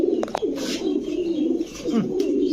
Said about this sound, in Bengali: শর্ট ফেস কবুতর কবুতরটা দেখছেন